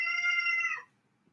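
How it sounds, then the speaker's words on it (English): A house cat lets out a single clear, drawn-out meow close by, tonal and fairly loud, fading out quickly into quiet. "and that is my cat."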